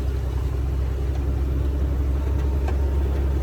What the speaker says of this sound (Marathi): आता गाडी चौथ्या गिअर मध्ये हाय अशी चढा लागल्या बघा